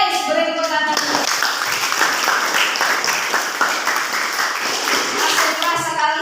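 Students applaud in a vocational aviation high school classroom: a burst of busy clapping that fills most of the stretch, with a voice speaking briefly before it starts and again as it fades.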